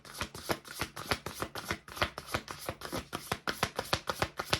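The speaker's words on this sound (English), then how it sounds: "We'll do one more shuffle with these." A deck of oracle cards is shuffled by hand in quick, crisp riffling bursts, close and fairly quiet, with no speech over it.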